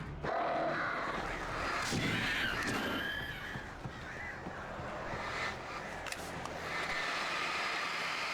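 Crows caw in the video game Alan Wake Remastered, harsh calls over a dense, noisy ambient rumble that fills the scene throughout.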